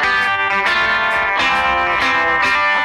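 An electric guitar lick from a song plays in a bright, driving, distorted run of repeated strummed notes, loud and alone with no voices over it.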